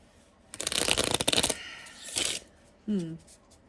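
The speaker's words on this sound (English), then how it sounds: "I want to give it one more good shuffle" A deck of tarot cards riffled in a quick burst of crisp flutters, then a softer second shuffle, ending with a short low thud.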